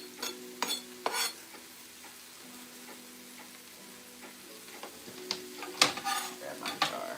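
Onions go into a hot pan and are stirred, bringing scattered clanks and scrapes of a utensil against cookware over a faint, steady sizzle, with louder clattering bursts near the start and end and no talking.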